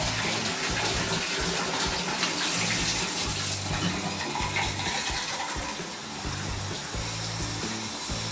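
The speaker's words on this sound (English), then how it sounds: "the shower is still running good, and I'm running the sink and flushing the toilet" Water runs steadily from a shower and a sink in a house, a constant broadband hiss and splash that fills the whole stretch without pause.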